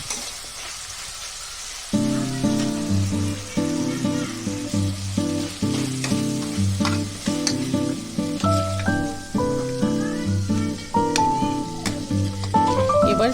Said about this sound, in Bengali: এবার চিকেনগুলো ভাজা হয়ে গেছে